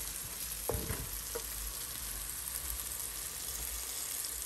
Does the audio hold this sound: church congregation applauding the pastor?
no